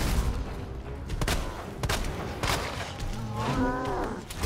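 Gunfire in the Resident Evil 2 Remake on PC: several sharp, loud shots sound at irregular intervals against a boss creature's low growls and game effects.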